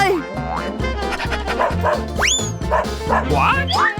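A dog barks in short yapping bursts during a comedy skit about sneaking a pet into a hospital, with bouncy music and a springy cartoon effect playing throughout.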